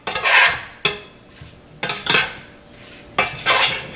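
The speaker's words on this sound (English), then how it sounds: "Now, what you do is just stir it around." A metal spoon stirs parsley into a pot with four rhythmic scraping, clinking sweeps against the pot, close and fairly loud, with no talking.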